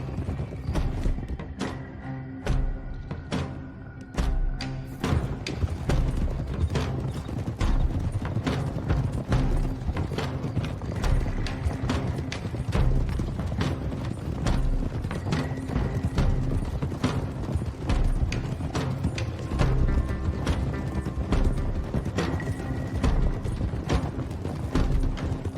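Horses' hooves clip-clop steadily on a trail as riders travel together in Red Dead Redemption 2, with many overlapping hoofbeats, creaking tack and occasional whinnies under a continuous ambient bed, no talk.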